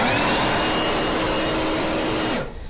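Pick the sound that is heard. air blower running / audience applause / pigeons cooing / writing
air blower running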